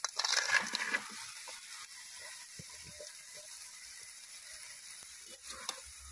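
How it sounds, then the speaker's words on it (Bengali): Fried potato, carrot and green banana with lentil dumplings go into a hot pan for shukto, giving a loud burst of sizzling in the first second that settles into a steady, quieter hiss with faint stirring. "এবার ভাজা সবজিগুলো দিয়ে দেব"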